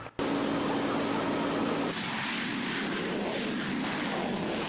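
A Hornet jet fighter, an all-weather military aircraft, roars steadily with broad, dense engine noise. The sound shifts slightly partway through, then continues as a sustained, loud rush without a break.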